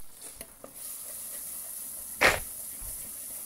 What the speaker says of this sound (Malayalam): മുളകും പൊടി ഇട്ടതിന് ശേഷം നന്നായിട്ട് ഇളക്കി കൊടുക്കുക.